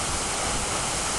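The GitGit waterfall gives a loud, unbroken roar of falling water, dense and constant, with nothing else audible.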